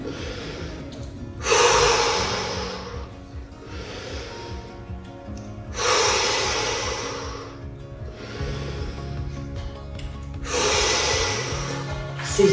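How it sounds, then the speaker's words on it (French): Deep breathing during a cardio workout cool-down: three slow, loud, breathy exhalations spaced roughly four seconds apart, close to the microphone, with quieter inhales between and a low background hum. "faire redescendre son rythme cardiaque en respirant profondément"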